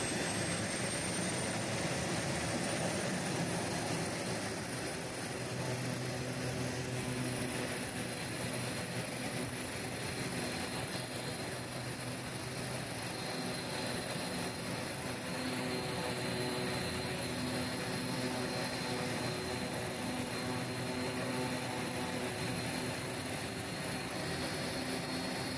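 A steady, loud aircraft engine drones continuously at high power, a constant roar with a whining tone layered on top, no pauses throughout.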